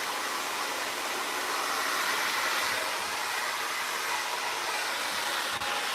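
A hair dryer set to high heat and high airflow blows with a steady, hissing broadband rush, constant and fairly close, with no talking.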